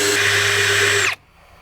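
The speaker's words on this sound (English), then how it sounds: "I can mark and drill all my other holes at one time" A power drill whines steadily at high speed while boring a hole for a grab bar on a boat, loud and close, then stops abruptly, leaving quiet room tone.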